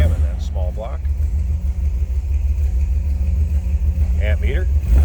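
Small block V8 in a 1946 Ford two-door sedan idles after a cold start with a lumpy cam, a loud steady low rumble with a slight loping pulse, as someone speaks briefly over it.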